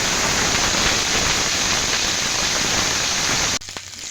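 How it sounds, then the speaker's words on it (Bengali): Panch phoron tempering spices and ginger paste fry in hot oil in a pan, giving a loud, steady close-up sizzle that cuts off abruptly near the end. "তো কয়েক সেকেন্ডের জন্য একটু আমি ফোড়নটাকে ভালোভাবে ভেজে নিয়েছি।"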